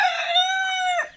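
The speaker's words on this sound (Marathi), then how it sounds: "इथे बघा ही कोंबडी ही खाते" A village hen eating drumstick (moringa) leaves gives one drawn-out, loud, tonal call lasting about a second, close by with no voices.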